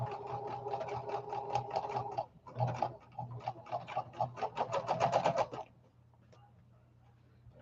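A sewing machine stitches in steady rapid bursts, running for about five seconds with a brief pause, then stopping while a low hum continues underneath.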